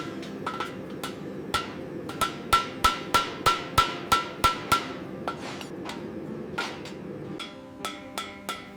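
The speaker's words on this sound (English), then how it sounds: "the artisan riveting technique that has secured handles to copper cookware for centuries" Sharp metallic hammer blows strike rivets securing handles to copper cookware in a factory, a quick regular run of ringing taps followed by slower, scattered strikes.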